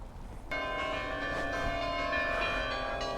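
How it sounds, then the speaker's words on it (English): Town hall bells of the Hôtel de Ville in Cambrai, France, ringing out in a rich, sustained peal that starts suddenly and carries on with overlapping, ringing strikes. "Hotel de Ville bells are certainly putting on a show."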